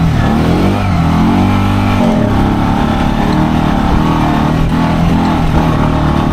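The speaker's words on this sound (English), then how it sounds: "Take it off, rev it up." Honda Pioneer 500 UTV engine revving up and easing off, its steady mid-range drone rising and falling in pitch, loud and close with no talking.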